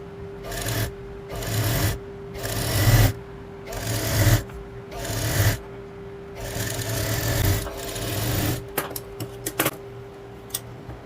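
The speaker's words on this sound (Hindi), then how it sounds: "अब इसमें फिटिंग की सिलाई आपको लगानी है।" Sewing machine stitching a short kurti, running in repeated bursts of rapid mechanical whirring separated by short pauses, close and loud, ending with a few light clicks.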